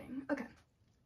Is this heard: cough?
yes